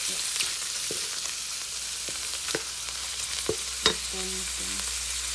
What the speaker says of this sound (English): Lulutuin lang natin ito ng garlic with sotanghon na ito